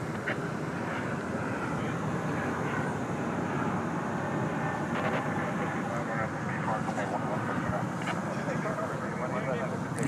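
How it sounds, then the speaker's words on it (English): An Alaska Airlines Boeing 737-9 bound for Seattle roars steadily down a runway at DFW Airport at night, a loud, sustained engine rumble with voices talking underneath. "It's like Alaska flight 575 to Seattle, 737-9 is about ready to take off on runway"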